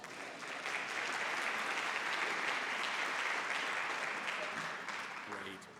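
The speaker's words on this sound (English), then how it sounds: "And while we're clapping for people, let's hear it for the stage crew" A concert audience applauds the stage crew at a school concert, steady, full clapping from many hands that swells quickly, holds for several seconds and fades near the end.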